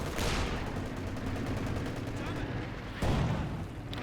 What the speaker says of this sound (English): Another vicious barrage there going down from the infantry support gun